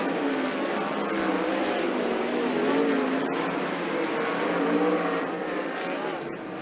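Loud, continuous engine roar of a 360 sprint car racing at Skagit Speedway, a steady high-revving drone holding throughout without pause.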